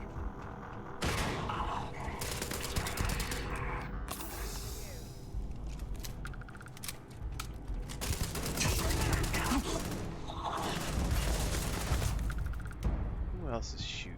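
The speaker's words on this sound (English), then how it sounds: "Who else is shooting at me, man?" Sustained gunfire in Starfield's survival mode, repeated bursts of automatic shots and heavy volleys across a noisy firefight, with mechanical game sounds and occasional speech in between.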